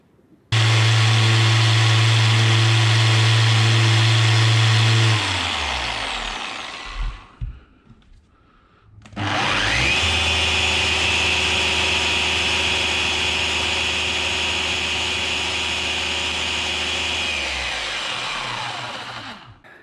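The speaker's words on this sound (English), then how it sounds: "the Makita sounds more rumbly, where the Flex sounds more whistly" A Makita PO6000C or Flex power polisher runs loud and close, spins down, then restarts and runs steadily. Each run is a strong, whining motor drone, and the first has a deeper rumble.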